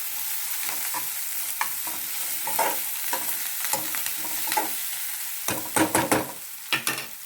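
Freshly pounded ginger-garlic paste frying in oil for a dried fish curry, a bright close sizzle with bursts of spatula scraping and stirring that grow louder toward the end, no talking.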